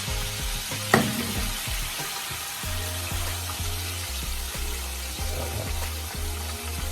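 Chicken wings fry in a pot of hot oil, giving a steady close sizzle and bubbling with a few light clinks of a large spoon, and no one speaking.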